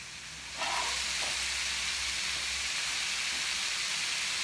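Beef skewers cooking slowly on a grill for African brochettes, a hiss and sizzle that jumps up suddenly after a quiet start and then holds steady and loud, close by, with a low hum underneath.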